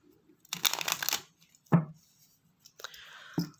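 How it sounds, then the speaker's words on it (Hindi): A tarot deck being shuffled: a dense burst of riffling card rustle, a single sharp snap, then a shorter second flurry ending in another tap, close and fairly quiet with no talk. "इसको भी शफल कर लेते हैं।"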